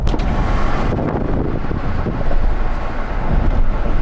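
Strong wind roars and buffets through the open window of a KGM Musso EV at 80 km/h, loud and gusty throughout over the low rumble of the moving car.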